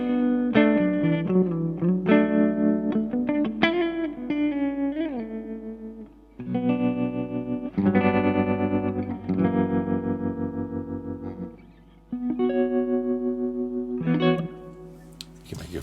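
A synthesizer run through a Dreadbox Treminator tremolo pedal plays sustained chords and melodic lines with a pulsing, wavering tremolo, pausing briefly between phrases.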